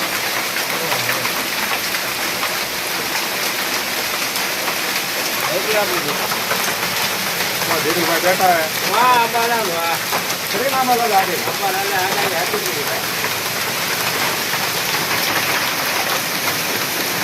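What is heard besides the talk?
heavy rain with hail in Rajkot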